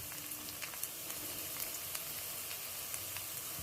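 Winter vegetable pakoras fry gently in oil over a low flame, giving a soft, even, fairly faint sizzle that holds steady throughout without speech.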